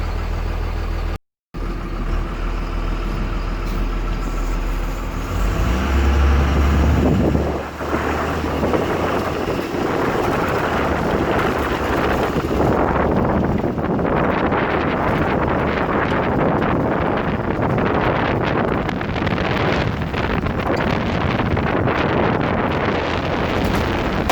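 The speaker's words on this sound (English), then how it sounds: "Now let's take this race bus for a drive." A race bus on the move: a continuous low engine rumble mixed with heavy wind buffeting runs for over twenty seconds, with a brief dropout near the start and a coarser, rougher roar building later, with no voices.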